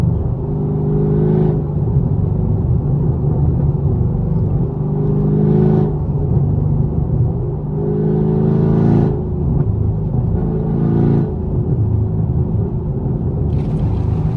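A Chevrolet Camaro SS with a 6.2L V8 drones steadily at highway speed, its exhaust rumbling low and close, with periodic swells and drops of throttle roughly every few seconds and no talking.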